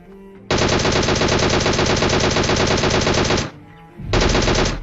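Automatic gunfire in the battle royale game PUBG rattles out in a loud, rapid burst lasting about three seconds. A short pause follows, then a second burst starts, with no talking.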